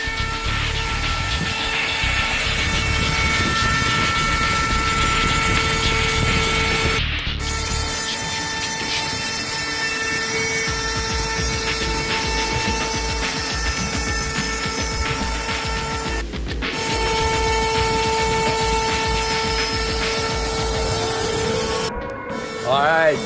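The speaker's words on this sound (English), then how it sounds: "get it started up and running. Let's see how the CNC is doing." An X-Carve CNC router carves kiln-dried pine logs with a steady, loud mechanical whine and tonal hum. The run continues for about twenty seconds with a few brief dips.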